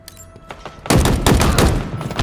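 Heavy automatic gunfire from a Halo Infinite bot match on the Bazaar map: a quieter stretch of distant shots breaks into dense, loud, sustained bursts that continue to the end, with no talking.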